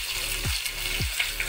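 Onions frying in a pan give a close, steady sizzle, with a couple of soft stirring scrapes over a short stretch.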